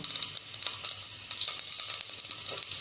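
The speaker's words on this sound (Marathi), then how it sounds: "आता फोडणीचं साहित्य ॲड करतोय" Tempering spices (ajwain, cumin, asafoetida and white sesame) sizzle steadily in hot oil for undhiyu, a close, continuous crackling hiss with no voices.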